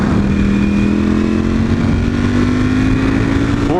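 A motorcycle pulls hard in fourth gear, its engine note climbing steadily as it accelerates, loud and close throughout with no voices.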